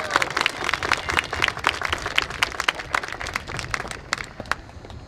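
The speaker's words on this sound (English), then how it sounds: "So if you give them a round of applause, that'd be fantastic." An audience at a school marching band showcase gives a round of applause, scattered but lively clapping from a crowd that thins slightly toward the end, with some background murmur.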